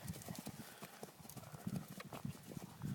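A horse's hooves clop rhythmically at close range during a riding lesson, with faint voices in the background.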